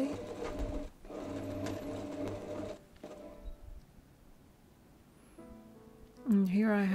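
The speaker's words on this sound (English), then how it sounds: "And here I'm sewing the lace sleeves." Sewing machine stitching lace bishop sleeves with French seams, in short quiet bursts of steady mechanical whirring separated by pauses, close by and fairly soft.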